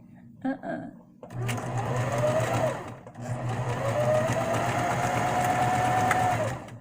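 A serger sewing machine stitching fabric, running in a steady loud whir for a few seconds, pausing briefly, then running again, with a person talking over it.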